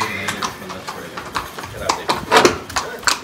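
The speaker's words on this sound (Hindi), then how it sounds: "ये है खतरनाक घोड़ा।" An aggressive Arabian horse in Saudi Arabia moves about with irregular clip-clopping hooves and snorting bursts, close and fairly loud, while someone talks over the sounds.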